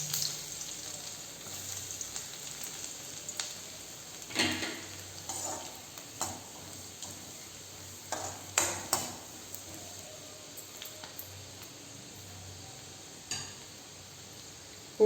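Small pieces of chopped garlic sautéing in oil for an okra and egg rice, a soft continuous sizzle broken by scattered stirring knocks and scrapes of a spoon against the pan.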